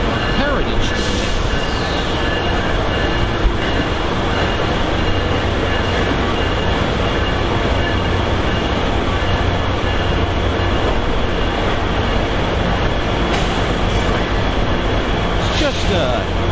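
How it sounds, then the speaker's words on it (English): Central of New Jersey heritage-unit GP38/GP40 locomotive number 4109 at Hoboken, a loud continuous rumble of the train with steady rail noise throughout and faint squeals above, with a person talking over it. "what should I see but the Central of New Jersey Railroad"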